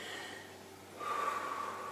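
Breathing during a diaphragm breathing exercise: a soft inhale followed by a fuller, louder breath through the nose about halfway through, close and quiet with no speech.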